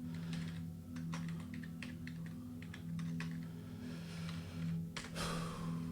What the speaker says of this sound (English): I normally type a little bit faster than that